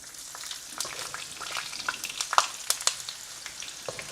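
Potatoes fry in hot oil in a pan with a crackling sizzle, sharp pops and spatters scattered over a steady hiss, heard up close with no voices.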